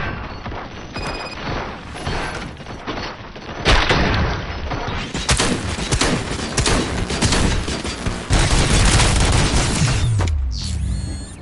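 Gunfire during a station fight in the RoboCop: Rogue City video game, loud and sustained with dense rapid bursts, heavy booming hits and mechanical clatter building over several seconds before cutting off.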